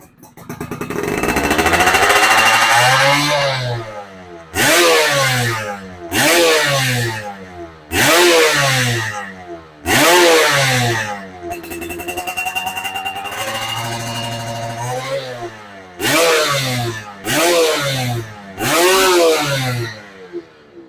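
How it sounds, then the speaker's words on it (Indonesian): A Yamaha F1ZR motorcycle engine revs hard again and again, sharp throttle blips rising and falling in pitch, with one longer sustained rev in the middle, loud and close. "Jadi lumayan galak geber-geberannya ya."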